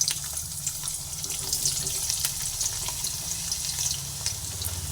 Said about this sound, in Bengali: তেল গরম হয়ে এসেছে সেই সময় এক এক করে কাঁকরোলগুলোকে তেলের মধ্যে দিয়ে দিচ্ছি